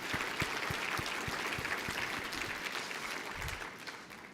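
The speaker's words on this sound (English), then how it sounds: "So let's give them a round of applause." Audience applause at a virtual fundraising gala for a school district foundation: steady, dense clapping throughout, fairly close and loud, with no talk over it.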